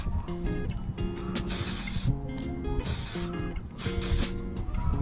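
Spray paint hisses out in short bursts onto a repaired fishing rod tip section, several separate sprays with pauses between, close up over a low mechanical hum.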